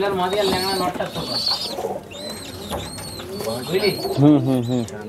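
Fulsira breed pigeons from Andhra coo in a loft, soft repeated calls mixed with other bird chirps, heard under someone talking throughout.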